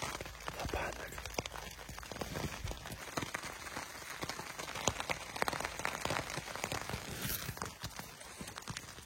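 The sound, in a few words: heavy rain falling at night by a river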